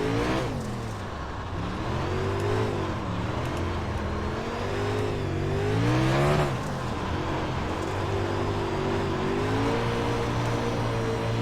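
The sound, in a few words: race car engine on Chili Bowl dirt track, from video game iRacing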